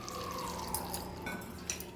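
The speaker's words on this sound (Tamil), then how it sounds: "அந்த காய் முங்குற அளவுக்கு தண்ணி விட்டுக்கலாம்" Water is poured over vegetables in a pot, a light steady trickle with soft splashes and drips, heard alone and fairly faint.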